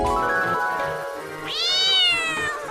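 A cat meows loudly and close up, in two long drawn-out calls with a rising, wavering pitch, the second higher and more strained, with no voices over them.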